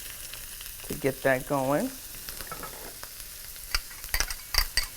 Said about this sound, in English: I've already added about a tablespoon of oil to my saute pan, and I'm gonna go in with these veggies